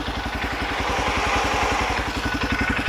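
A vehicle engine idles steadily with an even, low mechanical chug, warmed up and running hot with the electric cooling fan on, outdoors in snow; close and continuous with no talking.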